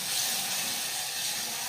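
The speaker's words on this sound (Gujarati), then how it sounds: "તો એવું બધું મિક્સ કરીને અત્યારે વઘાર લીધો છે" Sizzling tempering of mustard seeds, curry leaves and chillies in hot oil for Kathiyawadi urad dal, a steady, close, bright hiss that holds evenly throughout with no voices.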